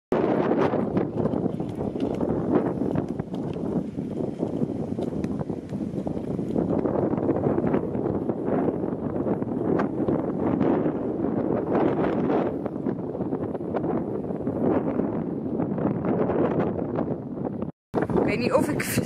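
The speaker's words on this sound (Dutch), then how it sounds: "Het waait zo hard." Strong wind buffets the microphone in a constant low roar, with a voice talking underneath.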